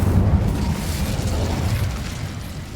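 The Incendio fire spell cast in Hogwarts Legacy, a fantasy video game: a loud, steady roaring burst of flame with a deep rumble that holds for the whole stretch with no talking over it.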